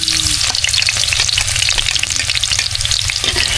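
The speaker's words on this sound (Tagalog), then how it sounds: "Lagyan natin ng mantika. Lagyan na natin ng bawang." Garlic frying in hot cooking oil, a loud, steady, dense sizzle with crackling spatters running throughout, close up and with no talking.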